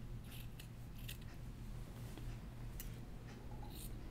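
Scissors snip loose threads off sewn fabric in a handful of quick, crisp cuts, close and quiet, spaced irregularly over a faint steady hum.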